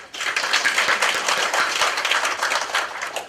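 Audience applause for the speakers at a commercial dispute resolution summit: a dense, steady wash of many hands clapping at once, sustained at even loudness for the whole stretch without pause.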